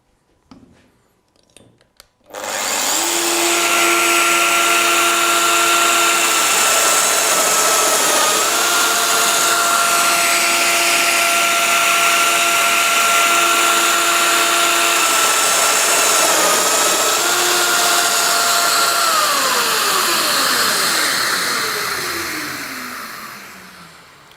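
A Festool Domino DF700 joiner whirs into a high, steady motor whine and holds it while cutting two mortises for corner connectors, the pitch shifting slightly and then winding down at the end.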